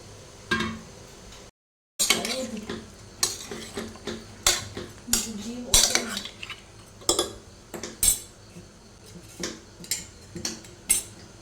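Pumpkin pieces go into a cooking pot with mutton, making a series of irregular metallic clinks and scrapes as a spoon knocks against the pot, with no voices.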